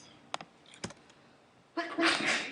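A few faint clicks and taps, then a short, sharp sneeze bursts out near the end, fairly close and louder than the rest.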